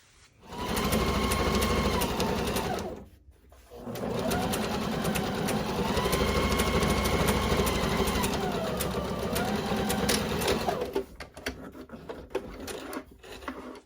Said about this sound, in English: as I was sewing at my sewing machine